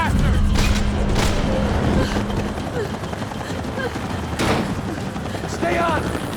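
Gunfire in the shooter game Max Payne 3, with several shots and bursts cracking over a steady low hum of engine or rotor noise and combat ambience.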